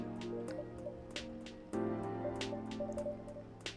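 Drops of a drink trickle and drip in the café game Coffee Talk 2 over soft background music, with a run of light, close splashy plinks at an uneven pace.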